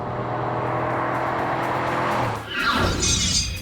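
A stock Cadillac's engine roars steadily while tires squeal in a long, loud drifting skid, the pitch shifting near the end as the car slides.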